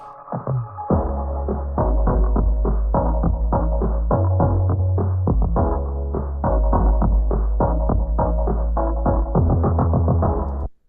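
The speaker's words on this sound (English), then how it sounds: "Now you can only really hear the bass and like the lower end of the synth as well as the kick." Muffled low-end music: a deep synth bass line with a steady thumping kick drum, the upper frequencies cut away so everything sounds dull and boomy.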